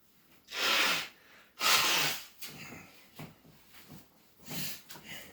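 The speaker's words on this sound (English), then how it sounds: "I gotta blow my nose." A couple of loud, wet nose blows into a tissue, followed by softer sniffs and snuffling, close up.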